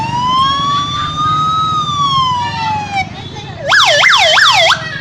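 A voice imitates a 108 ambulance siren: first a long, sustained high tone, then a quick, loud, rising-and-falling wail cycling several times.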